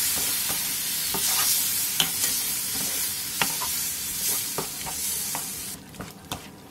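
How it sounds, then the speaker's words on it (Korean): Marinated octopus stir-fried with onion and carrot in an oiled pan over high heat, a constant close sizzle broken by sharp spatula scrapes and taps at irregular intervals, with no voices. "재워놓은 낙지를 넣고 센 불에서 볶아주세요"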